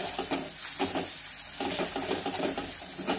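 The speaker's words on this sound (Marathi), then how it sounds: "तर अशाच प्रकारे आपण छानपैकी मसाला फ्राय करून घेऊया।" Masala for a Vidarbha-style egg curry fries in hot oil, its close sizzle broken by repeated scraping and stirring strokes against the pan, with no talking.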